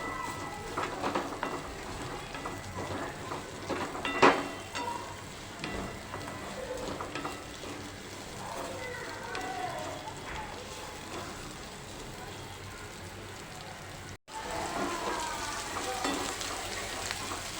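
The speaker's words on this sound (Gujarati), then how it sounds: "તેલ ગરમ થઈ ગયું છે હવે આપણે તેમાં કંટોલા એડ કરી દઈશું તેલમાં આપણે કંટોલાને થોડા કૂક કરી લઈશું" Spiny gourd (kantola) fries in hot oil in a kadai, a steady close crackle and sizzle with occasional stirring clatter and one sharp clink, going on for a long stretch with a brief dropout near the end.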